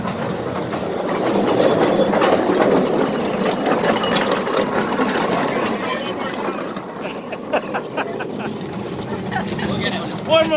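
A small mine railroad train ride outdoors on a brisk day: a steady rumbling, clattering rail ride with rhythmic wheel noise, while people talk over it nearby.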